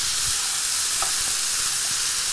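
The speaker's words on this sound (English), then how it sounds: "That's frying away nicely." Red capsicum and mixed vegetables fry in a pan for vegetarian oriental rice, giving a steady, close, hissing sizzle with occasional soft stirring clicks and no talking.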